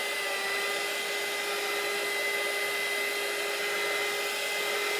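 A hair dryer blowing on a chalk-painted t-shirt, a loud, constant, close whooshing roar with a steady motor whine that runs unbroken throughout, with no talk.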